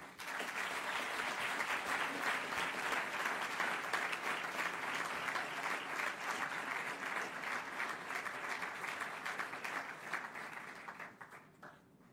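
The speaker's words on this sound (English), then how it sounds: "Ladies and gentlemen, a warm applause" A ceremony audience at the University of Bath breaks into warm, sustained applause, loud dense clapping that stays steady for about ten seconds before tapering off at the end.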